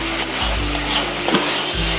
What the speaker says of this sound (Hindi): आलू मसाले सारे अच्छे भून गए हैं